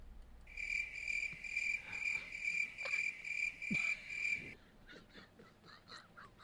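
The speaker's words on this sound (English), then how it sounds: "You need a cricket's noise." A cricket chirping sound effect plays as a loud, steady train of rapid, evenly pulsed chirps that stops abruptly after about four and a half seconds, leaving faint scattered noises.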